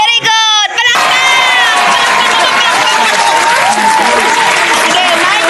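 Loud, sustained applause and cheering from a crowd of children at a basic math quiz game in a provincial Philippine setting, starting after a brief shout and continuing steadily with whoops throughout.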